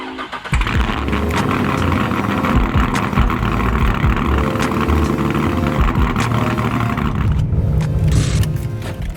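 A nitrous-equipped C5 Corvette cranks and fires up extremely loud, settling into a rough, lumpy, thundering idle close by, with a revving swell near the end and no talking.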